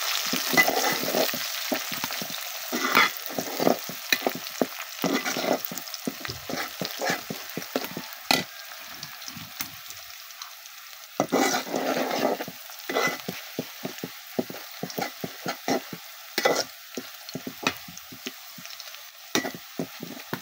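Bay leaf and cinnamon fry with browning onions in a pan for Bangladeshi duck bhuna, a steady close sizzle broken by frequent sharp scrapes and clatters of stirring.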